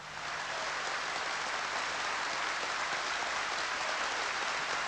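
A hall of post office union members gives steady, dense applause, a continuous distant wash of clapping with no voices over it.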